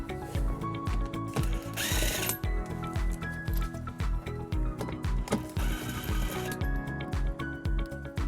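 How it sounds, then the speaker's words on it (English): A ratchet and socket wrench working underbody panel bolts on a 2020 Tesla Model S, with rapid, steady close-up clicking and whirring that runs nearly nonstop, broken only by brief pauses. "for those bolts, we're also going to use a 10mm socket"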